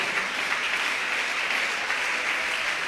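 Steady, dense applause from a Pentecostal church congregation, a continuous even wash of many hands clapping together, sustained without pause and with no voices standing out.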